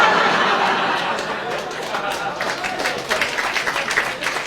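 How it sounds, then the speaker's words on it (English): Comedy club audience at a Scottish stand-up show breaks into sustained applause mixed with scattered chuckles and chatter, a dense, even roar of clapping that holds steady before thinning slightly toward the end. "the round of applause for the mention of a fry-up"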